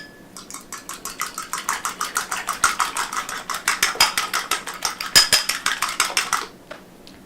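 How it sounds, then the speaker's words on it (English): A whisk clatters quickly against a bowl, beating an egg seasoned with a little salt and pepper, a steady rapid run of close metallic ticks for about six seconds before stopping. "Give it a little whisk so it's fluffy"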